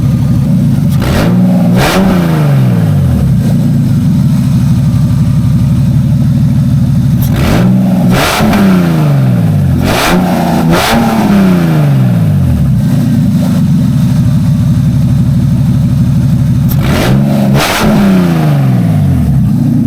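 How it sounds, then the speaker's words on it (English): A BMW E36 engine with open headers rumbling loudly at a rough idle, punctuated by several sharp, raspy revs that rise and fall back. "that's the sound of it with open header"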